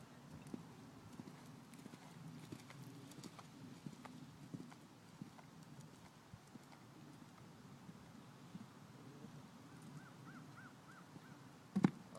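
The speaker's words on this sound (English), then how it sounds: "Now, do a little right lead canter and back over it." Horse hooves beat out a steady clip-clop in a right lead canter during a training session with a horse named Bagheera, moderately close and continuous, with faint wind and an occasional distant crow call.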